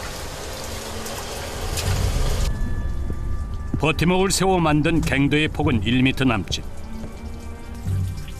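Water drips and patters like rain inside a narrow, timber-propped gem mine tunnel in Sri Lanka, a dense hiss running throughout while someone narrates over it.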